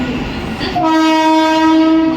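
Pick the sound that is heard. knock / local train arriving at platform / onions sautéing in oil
local train arriving at platform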